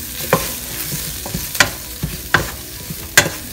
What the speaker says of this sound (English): Give this a mix.